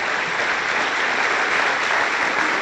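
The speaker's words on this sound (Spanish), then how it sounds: "dale un aplauso al Señor" A church congregation claps together in a loud, dense, sustained burst of applause that holds steady throughout, with no voices standing out above it.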